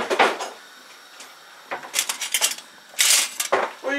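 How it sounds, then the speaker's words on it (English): Someone fetches a spoon in a home kitchen, with sharp clinks of cutlery and a drawer sliding and knocking, in scattered bursts separated by brief quiet, close by and without speech. "Let me get a spoon."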